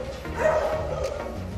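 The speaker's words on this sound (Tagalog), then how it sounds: "yung aso na yan mga kamars" A dog gives a short vocal burst, a clipped bark or yip, close by and fairly loud against a steady background, with no speech around it.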